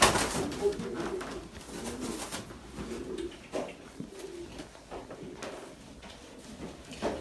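A racing pigeon breeding cock coos softly in a loft, with low repeated coos amid faint rustling and other quiet bird sounds in the background.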